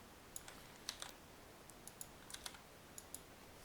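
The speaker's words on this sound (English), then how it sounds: "There we go, too much typing." Quiet, sparse keyboard typing, a handful of light clicky keystrokes spread irregularly over a few seconds with soft background hiss.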